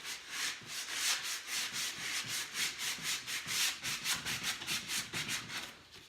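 Rhythmic rubbing strokes of a wet sanding sponge distressing chalk-painted furniture, steady back-and-forth scrubbing repeated many times at close range with no talking.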